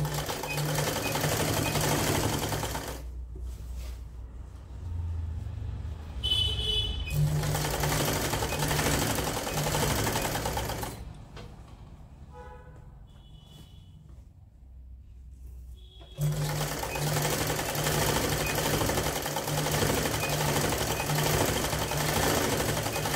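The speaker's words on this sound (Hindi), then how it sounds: "सिलाई करनी है आसन पे।" A sewing machine runs along the seat seam of palazzo pants in three long, fast-whirring stitching runs separated by brief quiet pauses with faint handling clicks.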